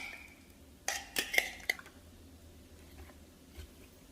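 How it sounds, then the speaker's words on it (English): Food is stuffed into a plastic blender cup: a short cluster of close clunks, knocks and rustles, then quiet. "I'm just gonna stuff everything in this blender cup here."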